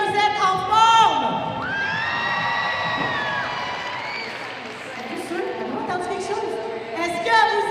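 An audience at a gymnastics competition cheers, whoops and shouts, with children's voices rising in long calls over a crowd roar that stays steady and loud for several seconds.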